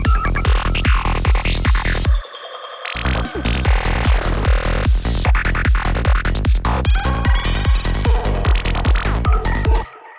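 Dense electronic drum loop with a closed hi-hat roll and a snare roll building into a transition, punchy kicks and bright hats driving hard, with a brief drop around two seconds before the pattern returns loud.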